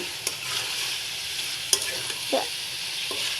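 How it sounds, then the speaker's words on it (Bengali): Fried prawns are stirred and mixed into a spicy masala in a pan, giving a steady sizzle punctuated by a few quick spatula clicks and scrapes. "এই চিংড়ি মাছগুলো ভাজা চিংড়ি মাছগুলো ছেড়ে দিলাম তো এখন সবগুলো একসাথে মিশিয়ে নিচ্ছেন"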